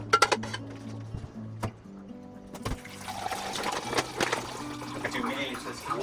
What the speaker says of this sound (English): I've got the water filler here that I need to fill up